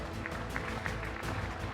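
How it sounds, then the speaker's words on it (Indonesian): Faint applause from an audience at a climate summit marking CNN Indonesia's 11th anniversary, soft rhythmic clapping heard at a distance over a low background. "Saya boleh minta tepuk tangan ya Bapak Ibu."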